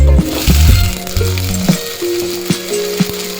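Shallots, green chilli and curry leaves sizzle in hot oil in a pan, a steady loud frying hiss with stirring clinks and scrapes against the metal throughout.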